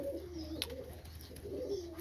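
Soft, low pigeon coos repeat in gentle rolling phrases, with a brief higher chirp midway, fairly close with a quiet background hum.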